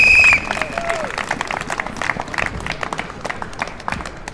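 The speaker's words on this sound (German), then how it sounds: "Applaus für Edith" Audience applause and scattered cheering at an evening vigil in Schwäbisch Gmünd, a steady crowd clapping for a speaker after a brief opening voice, mid-distance and continuous.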